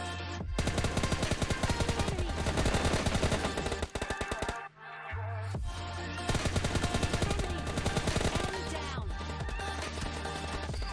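Sustained rapid gunfire rattles through a PUBG Lite squad fight, with dense automatic bursts that pause briefly and then resume, loud and close over a constant game background hum.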